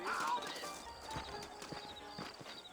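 Hooves clip-clop at a slow, uneven walk in the video game Red Dead Redemption, fairly quiet and close, with a brief horse whinny at the start.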